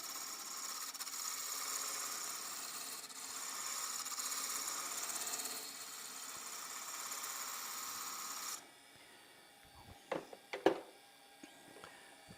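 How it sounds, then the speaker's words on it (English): Wood lathe spinning a workpiece while a spindle roughing gouge trues it up, a steady broadband hiss of cutting for about eight and a half seconds, then quieter with a few sharp knocks and scrapes. "I'm going to use my spindle roughing gouge again to true this up"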